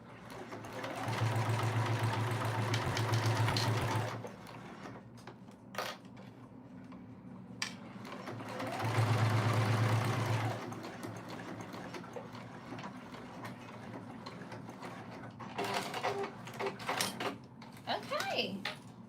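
Sewing machine top stitching a fanny pack, two sustained runs of steady mechanical stitching separated by quieter handling noises, with occasional clinks toward the end.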